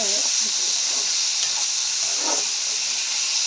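Steady, loud sizzling hiss of tomatoes frying in a pan, with faint stirring scrapes breaking through.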